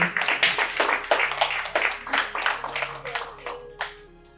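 Audience clapping for a team at a workplace equity event, a steady burst of many hands that thins out toward the end, with a voice briefly audible underneath.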